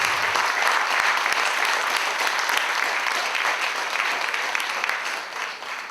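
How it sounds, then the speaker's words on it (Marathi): An audience claps steadily to welcome the chief guest, a woman army major, at a Marathi talk-show event. The dense applause stays loud and continuous for the whole stretch, easing slightly toward the end, with no voices over it. "आजच्या आपल्या कार्यक्रमाच्या प्रमुख पाहुण्या मेजर मोहिनी गर्गे कुलकर्णी यांचे आपण टाळ्या वाजवून स्वागत करूयात."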